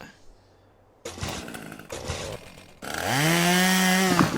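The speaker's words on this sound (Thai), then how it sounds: "ขุดสว่านลงไป" In the Henry Stickman video game, a drill grinds down into the ground, starting with rough bursts of mechanical rattling and then settling into a loud, steady whirring whine close up.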